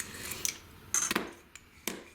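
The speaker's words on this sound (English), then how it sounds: "I've swapped out my scissors for this very sharp craft knife" A very sharp craft knife cuts through the sides of a vintage cardboard matchbox, making a few short, close scraping slices and clicks in uneven bursts in a quiet room, without speech.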